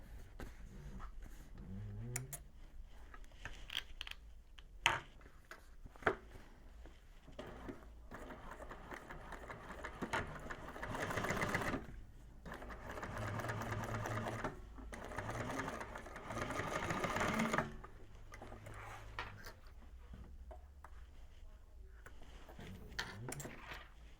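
A sewing machine top stitches through the bottom panel of a convertible bag, running in a long, steady whir from about ten to eighteen seconds, with quieter handling clicks and pauses before and after.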